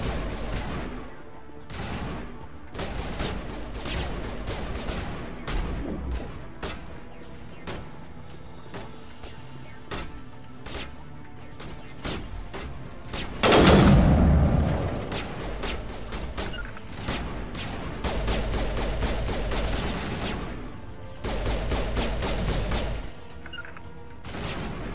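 Sustained gunfire in the Mass Effect video game, dense bursts of rapid shots with a louder blast midway, continuous action without voices.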